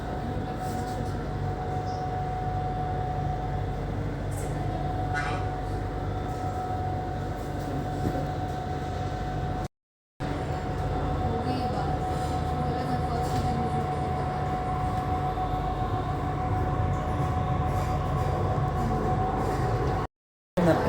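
Delhi Metro train near Qutub Minar rumbling steadily from inside the carriage, with a constant hum and rolling noise throughout and two brief dropouts, continuing without interruption.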